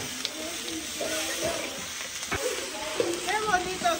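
Onion frying in oil on a discada, a broad steady sizzle running throughout with faint clatter from stirring and some speech over it.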